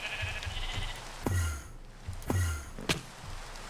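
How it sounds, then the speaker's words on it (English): Sheep bleating in a modded Minecraft world (FTB Revelations modpack) during rain, with three distinct bleats spaced about a second apart over a steady soft background hiss. "Sheep, sheep, sheep. I see one in this general direction."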